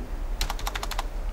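Rapid keystrokes on a computer keyboard while typing text, about eight crisp, close clicks in a quick burst over a faint background hum.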